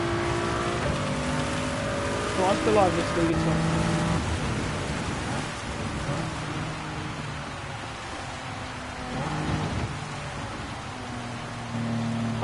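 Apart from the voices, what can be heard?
heavy rain during a race in a racing video game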